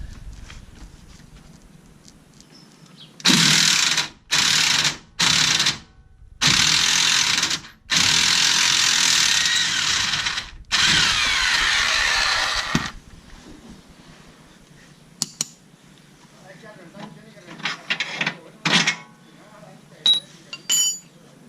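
A socket wrench loosens a lower control arm bushing bolt on an Infiniti G35, giving loud, close ratcheting bursts in several runs, then a quieter stretch of scattered metal clinks and tool handling.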